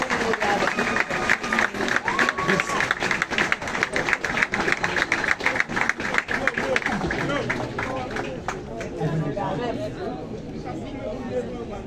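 Dense, steady clapping from a crowd at a police academy graduation ceremony, loud and sustained for several seconds before thinning out into murmuring chatter.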